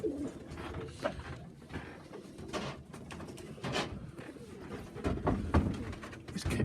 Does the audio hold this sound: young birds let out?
yes